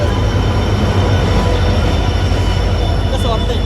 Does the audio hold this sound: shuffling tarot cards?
no